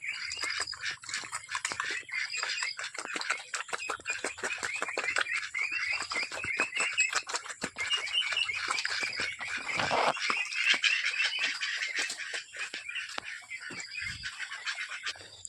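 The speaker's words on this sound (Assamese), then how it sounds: "এইবাৰ লৈছোঁ হাঁহ পোৱালিকেইটাক দিবলৈ" Domestic ducklings and other village fowl being fed chatter in a busy, continuous chorus of high peeps and quacks, near and lively, with a few louder honks and a brief low thump toward the end.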